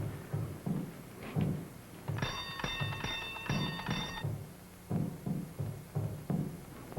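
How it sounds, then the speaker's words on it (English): A doorbell rings in a steady ringing burst lasting about two seconds, set against irregular thumps and muffled background activity, with no speech over it. "You ring the bell."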